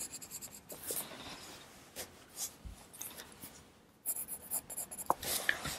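A pencil shading over a dried watercolor layer on paper, with soft scratchy strokes in irregular bursts and brief pauses, close and quiet with no voices.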